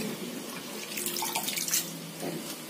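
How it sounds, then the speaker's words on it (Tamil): Fenugreek leaves rinsed under running water in a strainer in a village kitchen, a steady close splashing rush with gurgling swells and no talk. "இந்த கீரைய இப்படி அலசிட்டு இந்த கீரை வடிகட்டுற இது இருக்கு பாருங்க"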